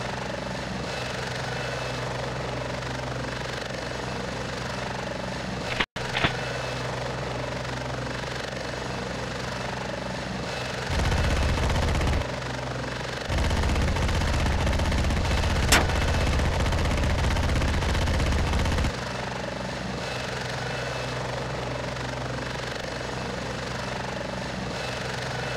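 Helicopter in the video game Heliborne, a steady rotor drone underneath bursts of machine-gun fire and one sharp loud crack, with heavier thumping fire in the middle stretch.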